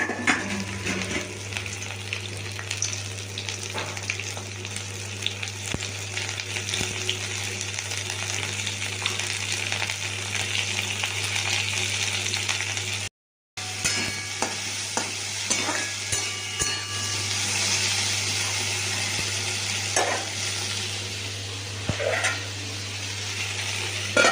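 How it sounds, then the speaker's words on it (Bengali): Vegetables fry in a pan as a spoon stirs them, a steady loud sizzle with frequent scraping strokes and clinks. It runs for most of the clip with a brief drop in the middle and no talking. "দিলাম ভাজতে"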